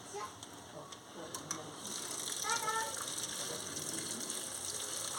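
Cut cabbage being washed under running water in a home kitchen, a steady faint tap gush starting after a couple of seconds with light clicks and handling noises.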